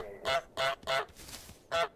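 Four loud, close honks from the cartoon goose in Untitled Goose Game, spaced unevenly with short silent gaps between them and no talking.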